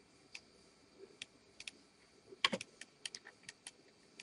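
Scattered, irregular keystrokes on a computer keyboard, close and fairly quiet, with a brief flurry of quicker clicks in the middle and a faint background hum.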